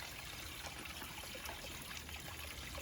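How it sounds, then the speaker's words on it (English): Water from an Australian creek runs and trickles over rocks, a soft, continuous babbling wash with faint bubbling detail, quiet and steady, heard alone without voices. "just listen to the sounds of the water running through the rocks."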